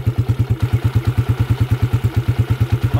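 A motorcycle engine rebuilt entirely with original parts idles close by, a steady, even chugging pulse firing about eight times a second with no other sounds.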